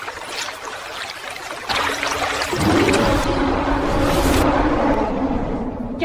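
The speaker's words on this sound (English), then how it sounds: "And we filled the canteens we found at the camp." Water pours and trickles steadily into canteens at a forest stream, a continuous close splashing flow that grows fuller partway through and carries on to the end.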